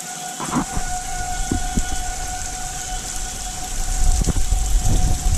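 Heavy rain and gusting wind pour down in a tornado-warned thunderstorm, a dense, steady roar that swells toward the end, with a steady siren tone running through it and a few sharp knocks from falling debris.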